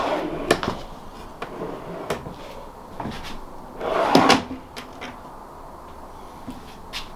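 A metal drawer in a military locker rattles and clicks on its slide bracket, with several sharp knocks and a louder scraping slide midway, close and alone.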